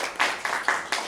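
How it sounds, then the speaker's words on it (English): A small meeting audience applauds, a brief burst of clapping heard close and moderately loud, arriving in four quick uneven surges over about a second. "Please give a round of applause to our Greek master for the day."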